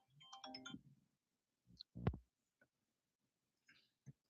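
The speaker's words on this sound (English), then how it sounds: "Somebody's trying to call me and I'm streaming" A phone ringtone for an incoming call sounds in short, quiet bursts separated by silence, one sharp tone standing out in the middle.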